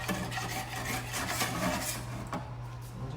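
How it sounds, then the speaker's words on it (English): A utensil scrapes and rubs steadily across the bottom of a pan, loosening browned burger bits left from cooking hamburger steaks, a continuous close rasping with no talking. "we'll scrape up all those bits of pieces that are in the bottom"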